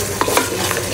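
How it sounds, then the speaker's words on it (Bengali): Spices for chicken biryani being stirred and fried in a pan, a continuous close sizzle with a few scraping stir strokes, no talking. "মশলাগুলো ভালোভাবে কষিয়ে নেই"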